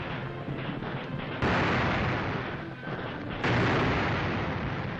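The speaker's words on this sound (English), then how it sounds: "Japanese guns blast a final rain of fire and steel on Nanteo" Japanese artillery pounds Chinese lines in Shanghai in an old war newsreel: a dense, crackly roar of gunfire with two abrupt, louder booms standing out, heavy and lo-fi, with no voices.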